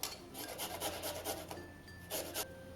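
A garlic clove rasped on a grater into a meatball mixture of ground meat, giving a series of quick, close scraping strokes in a steady rhythm with a short pause before a final burst.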